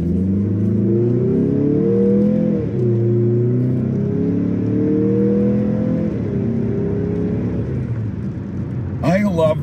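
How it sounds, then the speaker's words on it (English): A Mazda CX-50 2.5 turbo engine pulls hard through the gears on paddle shifters, revs rising steadily and dropping at each shift, then the turbo whooshes as it backs off, heard from inside the cabin. "I love the way that the turbo sounds when it backs off."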